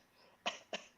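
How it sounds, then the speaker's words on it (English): Two sharp coughs about a quarter second apart, close and fairly loud against a quiet background, the second slightly weaker than the first. "The Friday cough."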